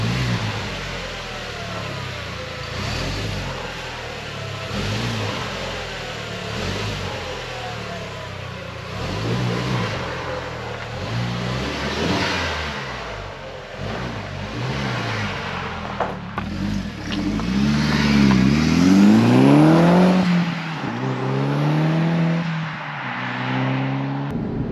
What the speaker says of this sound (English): Take it out for a drive and see what happens.